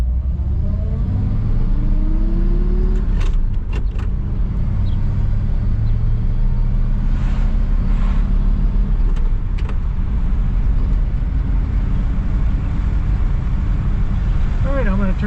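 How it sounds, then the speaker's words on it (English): A 1959 Chevrolet Bel Air with a three-on-the-tree manual shift cruising on the road, its steady low engine rumble and road noise filling the cabin continuously, with a few short clicks and taps over it. "short ride in the Bel Air"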